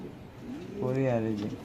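A male blue pigeon gives one low, drawn-out coo, close by, while people talk in the background.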